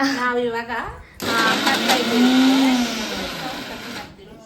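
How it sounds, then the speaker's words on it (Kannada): Kitchen mixer grinder whirring loudly at close range, starting abruptly after a voice and running steadily with a rising whine before cutting off near the end, with talk over it. "ಇನ್ನೂ ಮಿಕ್ಸಿ ಹಾಕ್ತಾ ಇದ್ದಾರೆ"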